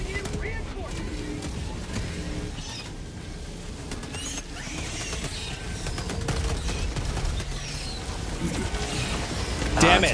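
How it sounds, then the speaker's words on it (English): Rapid autocannon fire in the game Helldivers 2 as the shots start striking a large enemy, bursts of heavy thuds and battle noise continuing throughout, with players talking over the gunfire. "The autocannon is starting to hit it."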